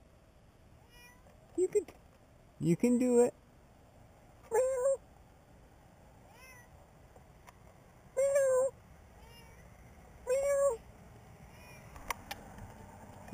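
A small cat meows up in a tree at night, about six distinct plaintive cries spaced a few seconds apart, fairly clear against quiet outdoor background, with a person speaking softly between them.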